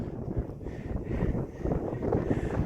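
Steady wind buffets and rumbles across the microphone on open moorland at Dartmoor, a constant low roar with gusty swells and no voices.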